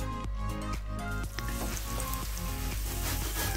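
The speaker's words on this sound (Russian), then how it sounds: "отправить обжариваться на небольшом количестве растительного масла на раскаленную сковороду" Loud, steady sizzling of onion frying in a little vegetable oil in a hot pan, continuous and close, with occasional stirring clatter.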